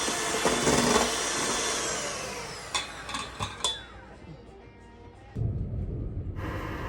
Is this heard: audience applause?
no